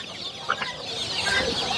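Native hens cluck at a busy chicken market in Mirpur, Dhaka, with one brief, sharper cluck standing out amid a constant hubbub of other birds and crowd noise.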